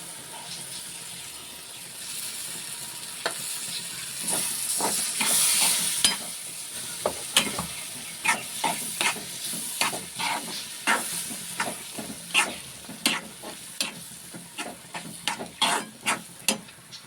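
Ground paste for a dry-ginger kuzhambu is poured into a hot pan and fries with a hissing, steamy sizzle, followed by a long run of rhythmic spatula scrapes and knocks, close and clear.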